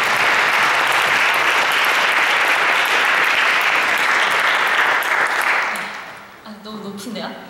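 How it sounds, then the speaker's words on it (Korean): A church audience breaks into loud, sustained applause to welcome a speaker, a dense wash of clapping that holds steady for several seconds before tapering off near the end. "우리 대흥 여디디아가 드릴 수 있는 뜨거운 박수로 우리 환영하겠습니다."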